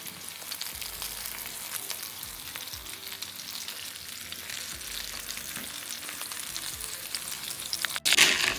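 Breaded eggplant slices fry in a hot pan with a steady crackling sizzle throughout, punctuated by brief scraping and stirring sounds and a sharper clatter near the end.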